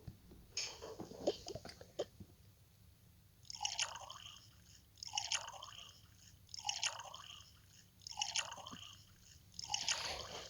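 Thick cake batter pours out in five slow, wet glugging bursts at a steady rhythm, each a soft squelchy drip close by, with no talk.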